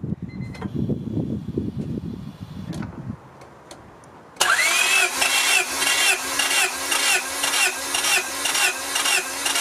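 A Honda B16A DOHC VTEC engine cranks over during a compression test after a brief stretch of low rumble and a pause: the starter whirs loudly in a steady, rhythmic pulse of compression strokes with a faint rising whine.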